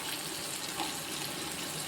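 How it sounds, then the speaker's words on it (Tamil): Tamarind water poured into a pot of South Indian mango curry (mambala kulambu) makes a soft, steady gushing stream for about two seconds, faint and close, with no talk over it. "புளி கரைச்சி வச்சுருக்கோம். புளியை ஊற்றிக்கிடுவோம்."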